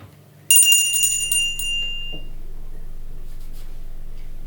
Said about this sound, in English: Now the bell will ring next to close the seance.